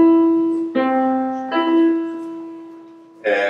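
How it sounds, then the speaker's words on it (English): A major third interval sounded on a sustained, organ-like instrument: steady held tones that shift between paired pitches over a few seconds, clean and close, with no voices. "It's called a major third."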